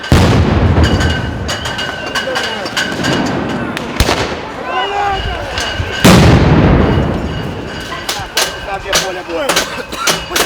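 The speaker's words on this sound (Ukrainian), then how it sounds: "міліція почала стріляти гумовими кулями" Police fire rubber bullets at a crowd during street protests, with sharp loud cracks and booms going off irregularly among crowd noise and shouting voices, some shots close and others farther away.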